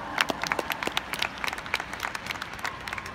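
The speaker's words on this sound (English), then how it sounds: "It's a quiet applause. It's a golf applause." Soft, polite applause from a conference audience at a social media summit: scattered, fairly quiet clapping that continues steadily throughout, with no voices.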